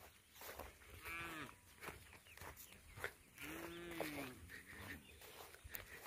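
Cattle in a village field near Jorhat moo loudly and close by, with two or three drawn-out calls over a low outdoor background.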